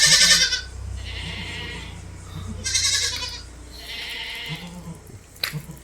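A crossbred female milking goat with young kids, offered for sale, bleats several times in a row, loud and near, with short pauses between the nasal, wavering cries.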